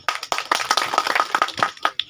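A small group of people claps at a farmers' meeting, a brisk, uneven patter of hand claps lasting about two seconds, close and moderately loud, with no talking.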